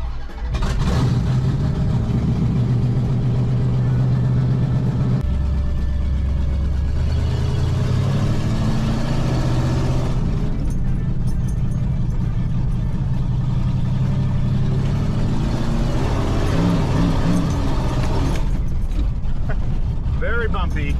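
A Ramcharger's 383 V8 with open headers rumbles loudly and steadily for about twenty seconds, its pitch shifting as the idle drops and rises, with a voice talking over it.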